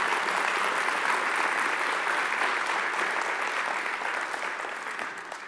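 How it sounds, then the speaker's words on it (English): A church congregation gives a big round of applause, full sustained clapping from a large crowd that gradually fades toward the end. "Let's give them a big round of applause."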